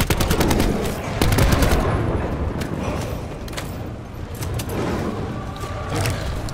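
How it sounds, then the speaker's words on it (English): Light machine gun firing in Call of Duty Black Ops 4 zombies mode: dense, loud bursts of rapid automatic gunfire that nearly fill the stretch, with brief gaps and sharp single cracks between volleys. "This is another light machine gun"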